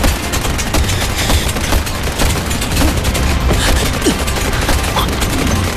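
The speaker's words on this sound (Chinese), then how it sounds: "又来这一招，给我开枪！" A drama scene carries dense, rapid gunfire, a loud continuous volley of overlapping shots and bangs with no pause, sounding close and filling the whole stretch.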